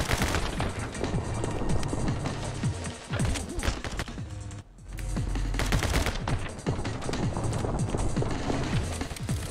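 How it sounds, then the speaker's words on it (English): Rapid, relentless bursts of dual Uzi fire blast from the My Friend Pedro video game, loud and nearly continuous with one brief pause midway. "Double Uzi?"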